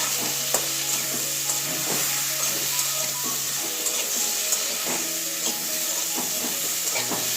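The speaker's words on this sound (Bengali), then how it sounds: "ভালো করে একটু কষিয়ে নেব" Potatoes and ground spices sautéing in a pan for a gourd-leaf curry with potato, eggplant and lentil dumplings, a continuous sizzle with frequent spatula scrapes and taps, close up with no talking.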